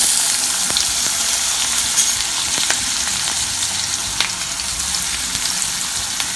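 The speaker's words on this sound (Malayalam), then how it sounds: "നമ്മുടെ ഓയിൽ ചൂടായി വന്നിട്ടുണ്ട് ഞാൻ ഇതിലേക്ക് നമ്മൾ ചതച്ച് വെച്ചിട്ടുള്ള വെളുത്തുള്ളിയും ചുവന്നുള്ളിയും ഇടാണ്" Crushed garlic and shallots fry in hot coconut oil with a loud, steady sizzle broken by faint crackles and pops, close by and with no talking.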